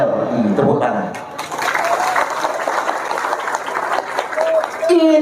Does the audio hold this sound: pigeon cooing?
no